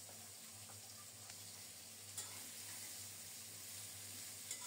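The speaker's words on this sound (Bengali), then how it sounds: "নেড়ে চেড়ে পেঁয়াজটাকে একটু বাদামি করে ভেজে নেব" Onions sizzle in hot mustard oil with salt, turmeric and chopped green chillies, a steady close hiss of frying with occasional faint stirring scrapes and no talk.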